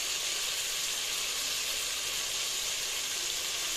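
Ground spices, salt, turmeric, crushed red chilli and dried coriander, fry in hot oil in a pan, a loud, even, unbroken sizzle with no voices.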